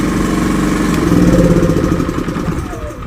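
A Philking 4200W inverter generator engine starts without choke and runs steadily at a close distance, a low continuous putter with a slight rise in pitch partway through.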